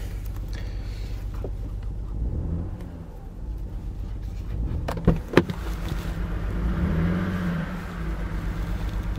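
A BMW 330i engine running on only five cylinders gives a low, uneven rumble throughout, with a couple of sharp clicks midway, heard from inside the vehicle.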